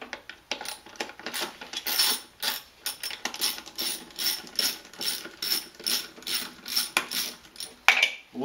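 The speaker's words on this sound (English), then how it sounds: "It's a 7 millimeter socket with a long extension." A ratchet with a 7 mm socket on a long extension loosens an air duct clamp on a Mercedes-Benz W202 C280, giving repeated close clicking bursts in a steady rhythm.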